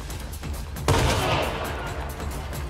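A gunshot bursts out loud and close during a round of the video game Hunt: Showdown, with a ringing tail over steady background ambience and faint earlier thumps.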